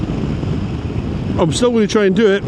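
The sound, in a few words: wind blowing on a motorbike ride in Scotland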